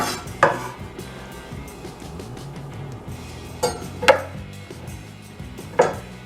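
A knife chops artichokes into chunks on a board for a thin crust veggie pizza: three or four sharp, distinct chops spaced unevenly over a quiet kitchen background.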